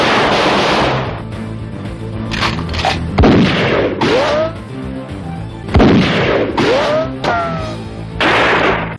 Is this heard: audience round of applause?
no